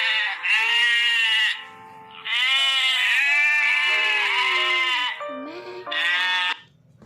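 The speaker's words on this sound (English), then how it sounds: "Hear the sound of the goat." A goat bleats loudly and close by, giving several long, wavering calls with short pauses between them and no other sounds.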